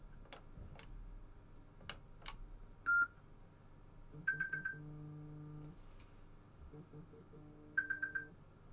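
A medication reminder alarm gives short clusters of rapid electronic beeps, a couple of quick bursts spaced a few seconds apart, faint against a quiet room with occasional clicks and ticks.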